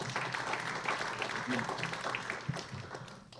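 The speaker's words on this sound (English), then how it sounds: "round of applause for that question" Audience applause at a 2024 Huntington Beach chamber candidates forum, a steady wash of clapping from a seated crowd filling the whole stretch, with some voices mixed in beneath it.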